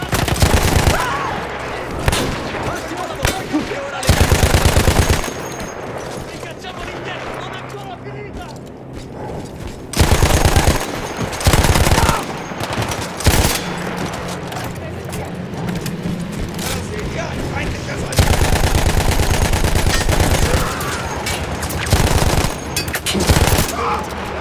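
Machine gun fire in a First World War game set in the Italian Alps, with long loud rattling bursts separated by shorter gaps, and mechanical clanks and in-game battle noise between the volleys.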